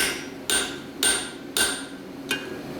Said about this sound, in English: Still using a fairly light hammer, pound and 3/4.